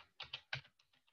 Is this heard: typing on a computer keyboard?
yes